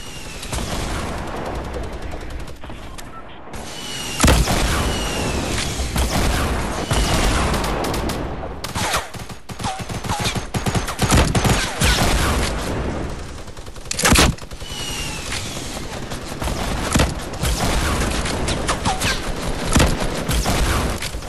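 Loud, dense shooter game gunfire: rapid bursts and sustained automatic fire over a full-range rumble, broken by sharper blasts around the midpoint and near the end, with brief quieter gaps between volleys.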